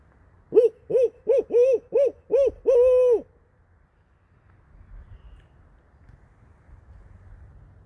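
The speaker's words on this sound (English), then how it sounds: "try a barred owl hoot now, just maybe to wake them up and get them going." A clear series of barred owl hoots at night in woods, six short rhythmic calls ending in a longer drawn-out note, loud and close, followed by quiet background.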